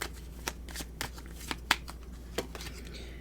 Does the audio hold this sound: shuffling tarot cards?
yes